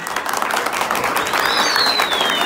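Wedding guests applaud in a steady, dense wash of clapping at close range, with crowd murmur and a thin whistle-like tone drifting through the latter half.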